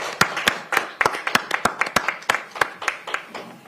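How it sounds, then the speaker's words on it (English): Sparse applause at a city council meeting honoring service dogs: a few people clapping in a steady, fairly regular rhythm of distinct sharp claps, moderately close, with no talk over it. "Let's give them a round of applause"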